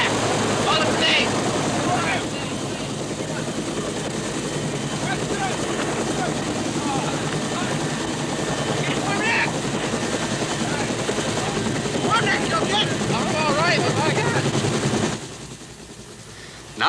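Military helicopter lifting off during a wartime evacuation, with a steady, loud rotor and engine roar filling the scene, under shouted voices, until the roar drops away near the end.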